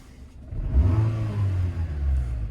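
A Renault Twingo 2 engine revs up close, a rising mid-pitched growl that holds and swells again, with no voices over it.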